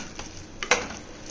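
A spoon scrapes and stirs rice into masala in a pan for Tamil-style coriander rice, giving a few soft scraping strokes with one sharper clink near the end against quiet kitchen background.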